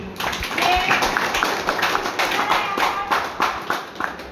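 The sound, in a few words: audience clapping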